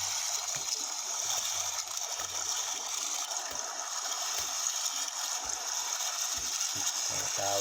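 Sea water at high tide washing and churning close by, a steady broad rush with faint trickling and gurgling, heard without talk.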